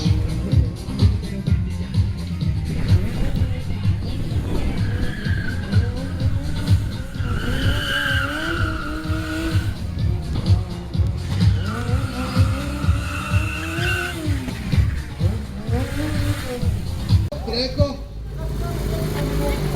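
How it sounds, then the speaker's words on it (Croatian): At a crazy car stunt show in Zagreb, a car driven on its rear wheels screeches and skids with rising, wavering tire squeals and engine roar, while a crowd and an announcer talk loudly over it. "Ide Pivrta na zadnje bez ruku, ba ide špoiler Zaprišić!"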